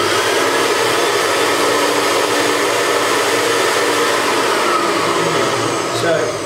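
A portable vacuum unit runs continuously with strong exhaust airflow, a loud, steady rushing whoosh with a motor whine underneath, unbroken throughout.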